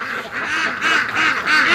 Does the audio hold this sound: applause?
no